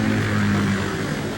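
A Kamov Ka-60 Kasatka helicopter in Metal Gear Solid 2 drones loudly with a steady low rotor and engine hum, a brief continuous roar close by.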